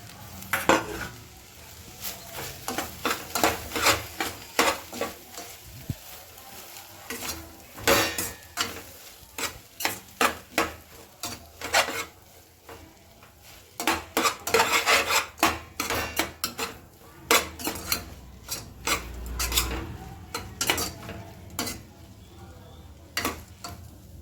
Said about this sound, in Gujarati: જો હવે આપણે એમાં એડ કરીશું ટમેટાં અને થોડા મરચાં ને એવું.